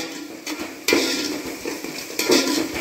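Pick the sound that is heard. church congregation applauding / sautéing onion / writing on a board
sautéing onion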